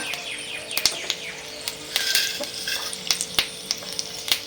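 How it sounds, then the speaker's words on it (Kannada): Curry leaves crackle and sizzle in hot oil over a low flame while tempering for spiced buttermilk, with sharp pops scattered through a steady close frying hiss. "ಕರಿಬೇವು ಸ್ವಲ್ಪ ಚಟಪಟ ಅಂದಮೇಲೆ ಒಗ್ಗರಣೆಗೆ ಜೀರಿಗೆ, ಸಾಸಿವೆ ಹಾಕ್ಕೋಬೇಕು"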